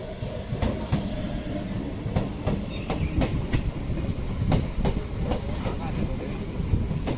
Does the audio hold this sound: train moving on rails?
yes